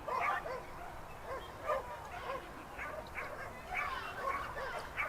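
An excited dog barking and yipping at an agility competition at the Dogs Australia Agility Nationals, repeated bursts of medium-distance barks over crowd ambience and an announcer talking.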